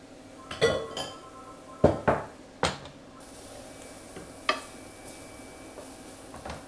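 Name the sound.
mushrooms being stirred and folded over in a frying pan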